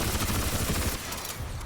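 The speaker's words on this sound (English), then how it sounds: "And the Reaper cannon, like a Ceph minigun thingy" A Ceph Reaper cannon in Crysis 3 fires in a fast, dense rapid-fire stream, loud and close, tapering slightly toward the end of the short burst with no talk.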